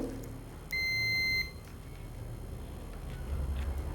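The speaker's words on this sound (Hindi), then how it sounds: "देखो मेरा मल्टीमीटर बीप रेंज पे सेट है" A multimeter set to its continuity beep range, used while repairing the display section of a split AC control board, sounds one clear electronic beep lasting over half a second against a background of faint room noise.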